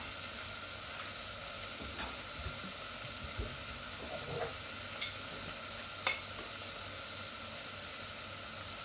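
Pepper chicken sautéing in a clay pot, a steady sizzling hiss with scattered scrapes and stirring clinks at close range, several brief louder knocks standing out, and no talking.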